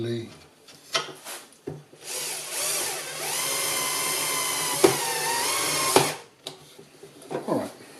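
A Festool CXS cordless drill drives screws into IKEA full-width drawer handles, whirring in one steady run of about four seconds between short bursts, close and fairly loud, with a person speaking before and after.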